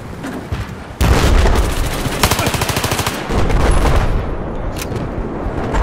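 Rapid automatic gunfire from a minigun in a Battlefield 4 conquest match, loud sustained bursts with fast rattling pulses dominating the mix and a brief lull before firing resumes.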